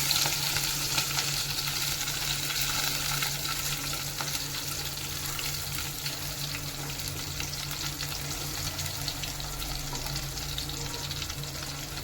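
Onion frying in a pan for a Tamil-style kuzhambu, a steady close sizzle and crackle running continuously without pause, with no voice over it.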